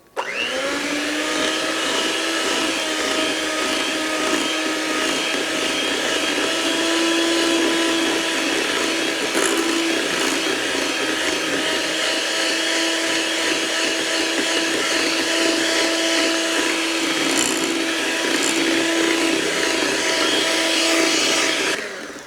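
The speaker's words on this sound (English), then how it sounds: "So always start your mixer on low speed" Electric stand mixer running steadily on low speed while beating lemon pound cake batter, a continuous motor whir with a faint mechanical rattle, close and constant, no talk.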